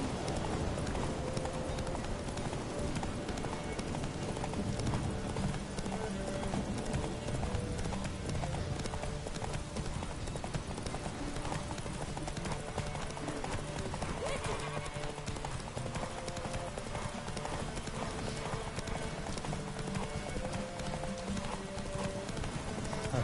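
Horse hooves galloping in a video game: a continuous rhythmic clip-clop of a running horse throughout, with a neigh heard at one point and people talking over it.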